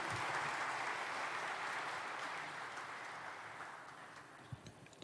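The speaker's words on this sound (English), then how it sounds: "Let's have a thunderous round of applause for him, ladies and gentlemen." An audience applauds the chief guest, Minister Piyush Goyal, at the inauguration ceremony of ECGC's new head office building. The clapping is a faint, distant, continuous wash that slowly tapers off.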